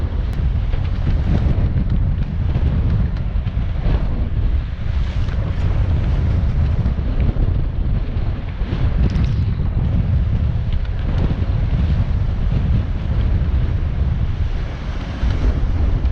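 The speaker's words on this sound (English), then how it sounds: "just a bit more heavy winds." Heavy wind buffets a single-handed sailboat beating upwind, a loud, continuous roar of gusts and rushing water close to the microphone, with no talking.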